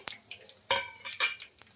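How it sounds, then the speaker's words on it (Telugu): Chana dal, cumin and mustard seeds fry in a small amount of hot oil, with faint sizzling broken by sharp, irregular pops and light clinks of a spoon against the pan. "ఒక స్పూన్ దాకా శనగపప్పు అయితే వేసుకోవాలి ఇంకా అలాగే పోపు దినుసులు కూడా వేసుకోవాలి జీలకర్ర ఆవాలు"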